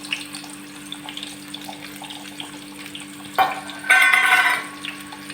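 Chopped onion goes into heated oil for a rajma tempering. A quiet kitchen hum is broken by a short sizzle, then a louder burst of frying that settles back down.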